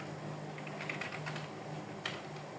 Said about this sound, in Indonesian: Jadi kita ketik seperti ini, sudo nmap